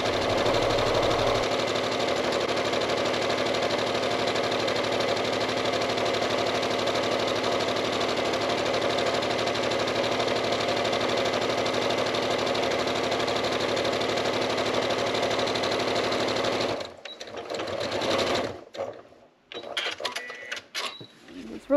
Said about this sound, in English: you can see I sewed around the outside